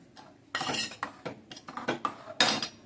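A spoon stirs sabudana kheer with chopped cashews, almonds and pistachios in a metal pot, giving a run of close, irregular scrapes and clinks against the pot's sides, with no talking.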